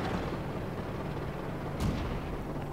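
Tank cannon shot in World of Tanks, a single low boom partway through set against a steady rumbling engine bed, fairly loud with no talk over it.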